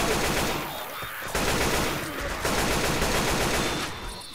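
Loud, dense bursts of rapid gunfire in Left 4 Dead 2, nearly continuous with brief gaps, like automatic weapons firing.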